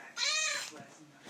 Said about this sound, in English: My cat just wanted to say hi.